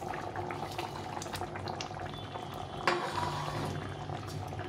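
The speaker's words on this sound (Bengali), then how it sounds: "এভাবে ফুটে গেছে, এখন আমি মাছটা দিয়ে দেবো।" Taro and milk curry bubbling in a pot, a quiet steady simmer with soft burbling and faint popping, one slightly louder splash near the end.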